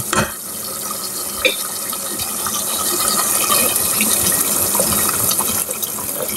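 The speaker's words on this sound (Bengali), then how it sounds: "এখন আমি সিদ্ধ হওয়ার জন্য গরম পানি দিয়ে দিব।" Hot water pours into a cooking pot of spiced beef curry with a steady rushing, hissing sound for several seconds, a few clinks and scrapes along the way, with no talking.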